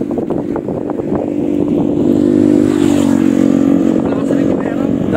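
Honda PCX 150 and Yamaha Aerox 155 scooters in a 200-meter drag race, engines droning and rising in pitch as they accelerate, loud and close, with people talking over the noise.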